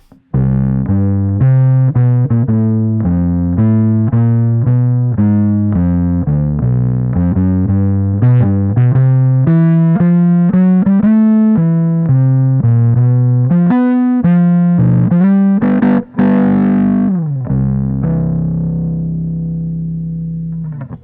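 A bass guitar through a Darkglass Microtubes 900 amp's distortion section plays a continuous riff of sustained, gritty notes, loud and upfront, ending on a long ringing note.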